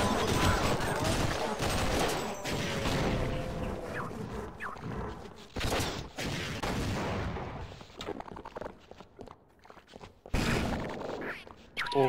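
Bursts of rapid gunfire from a gun turret in Half-Life (Sven Co-op), loud and near, firing in volleys with short pauses, some voice faintly underneath.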